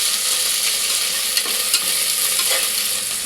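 Onions sautéing in a pan with green chilli, curry leaves and coriander, a steady close sizzle under continuous stirring with a few scrape accents.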